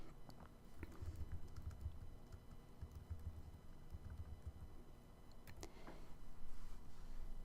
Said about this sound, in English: So in here I type the content.